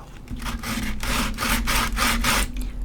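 Sandpaper rubs back and forth across a coaster, a close, loud series of about six rhythmic rasping strokes with brief pauses between them and no voices.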